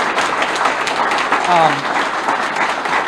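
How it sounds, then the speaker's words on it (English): An audience at a live announcement about a new women's softball team applauds steadily, a full, even wash of clapping with a brief voice and a few whoops rising above it. "A little round of applause for Sam"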